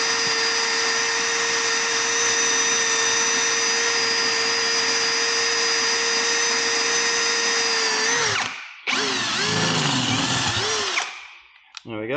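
A power drill bores a hole during a motorcycle strip down, its steady whine running loud and close for about eight seconds before a brief stop, then a second rough burst of drilling.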